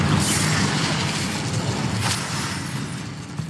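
Incendio fire spell cast in Hogwarts Legacy, a loud whooshing roar of flame with a deep rumbling body and a brief burst near the end, continuous for a few seconds.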